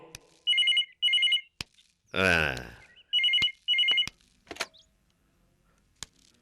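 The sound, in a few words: telephone ringing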